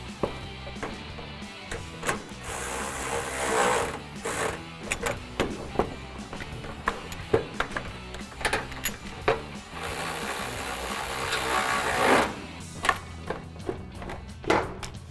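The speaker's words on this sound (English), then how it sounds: "We'll grab our ratchet with our extension and 10mm socket and tighten them down" A ratchet with an extension and 10mm socket tightens nuts behind the bumper of a 2005-2009 Ford Mustang, producing close bursts of rapid clicking broken by short pauses and taps.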